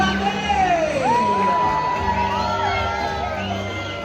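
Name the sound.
crowd cheering on Disney cruise sail away party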